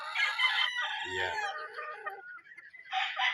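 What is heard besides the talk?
chickens and roosters at a farm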